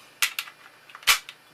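Cartridges click into a cheap 30-round SKS magazine one at a time, each a crisp, close metallic snap with a short gap between them, in a quiet room.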